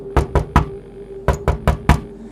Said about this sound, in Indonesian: Ada seseorang yang mengetuk pintu depan.